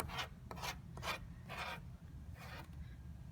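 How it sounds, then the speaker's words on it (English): A knife scrapes printing ink back across a surface in about five short, rasping strokes with a steady rhythm, close and fairly quiet over a low background hum. "I'm going to take my knife back. I'm going to scrape a little of this back."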